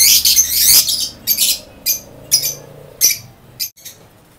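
Aviary birds kept for pale and dun fallow mutations give a run of sharp, high chirps and squawks, about seven short bursts spaced unevenly, close and fairly loud, with no talking.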